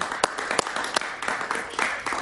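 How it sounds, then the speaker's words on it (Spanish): Applause from a studio audience during a Spanish-language interview, scattered sharp claps mixed with a soft, fairly quiet ripple of clapping and faint voices. "Un aplauso para David muy bueno."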